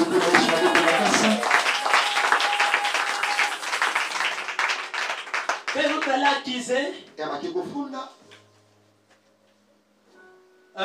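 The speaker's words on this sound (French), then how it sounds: "Applaudis pour l'Éternel." A church congregation claps and applauds loudly and continuously under shouting voices and music, then the noise drops away to near quiet with a few scattered claps.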